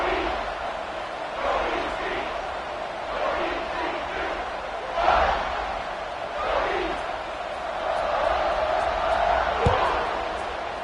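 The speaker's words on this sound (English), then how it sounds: "this crowd is buzzing after that last score." An American football stadium crowd roars and murmurs after a score, a broad swelling wash of many voices near and far with surges and a sharp thud near the end, under talk.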